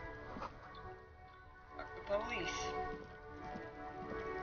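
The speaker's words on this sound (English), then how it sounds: "It's raining again." Rain patters softly and continuously in the Disco Elysium video game, a faint, steady wash under quiet music and occasional ambient sounds.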